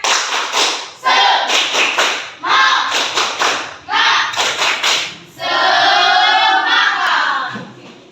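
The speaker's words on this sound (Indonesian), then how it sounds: "untuk lebih semangatnya kita tepuk semangat" A school class in Indonesia doing a rhythmic spirit-clap cheer in unison, loud bursts of group clapping in patterned beats punctuated by pauses, ending in a shouted chant from the students.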